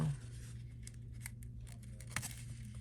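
Paper snips cutting through paper while a Valentine's gift is crafted, giving brief crisp snipping sounds at close range against a quiet background.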